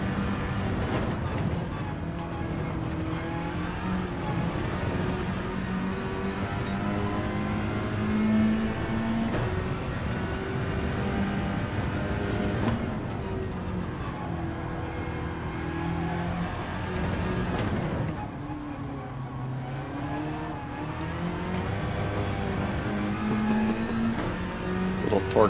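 A Mazda 3 racing in Gran Turismo 7 at Atlanta, its engine revving up repeatedly through the gears. The pitch rises and falls with each shift, with other cars' engines droning close by.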